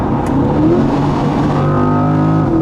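Mid-engine Chevrolet C8 Corvette accelerating on the road at highway speed in eighth gear, a loud continuous engine drone with rising tonal harmonics, heard from inside the car without talk.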